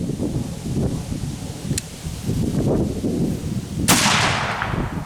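A single loud, sharp shot from a Cabela's .58 caliber Hawken rifle cracks out outdoors and decays, with steady wind rumble before and after.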